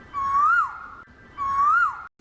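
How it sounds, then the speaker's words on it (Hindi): Two rising-and-falling whistled koel calls, each swelling then sliding down, with a pause between and a brief sharp click at the end, set in a palace scene. "कोयल की आवाज कहां से आ रही है?"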